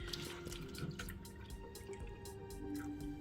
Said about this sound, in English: we're going to be placing them into cups of water